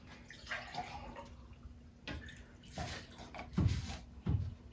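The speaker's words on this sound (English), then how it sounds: "go ahead and pour that warm water in there, into the glass" Warm water is poured into a glass for a salt-and-egg density experiment, heard as faint trickling with two brief louder splashing pours near the end.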